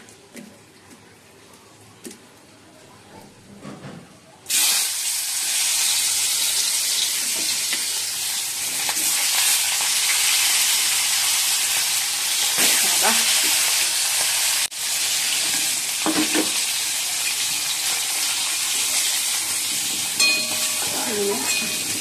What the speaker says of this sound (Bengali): আর এই যে কড়াইতে তেল দিয়ে দিয়েছি, তেলও গরম হয়ে গেছে, মাছগুলো ভেজে নিই।